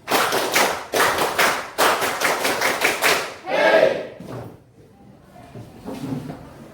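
Students in a high-school classroom clap in unison through a patterned concentration routine, tight rapid bursts in rhythmic groups, loud and near, followed by a brief shout and quieter voices.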